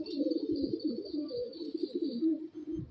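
Andhra (Madrasi) pigeon with dark eyes cooing softly in a loft, a continuous low murmuring coo with faint background hiss, no talk.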